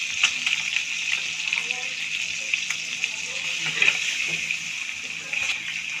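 Soaked eggs with turmeric powder fry in a pan as they are stirred, with a steady, close hiss and sizzle and light scraping. The sizzle stays even throughout, with faint background voices beneath it.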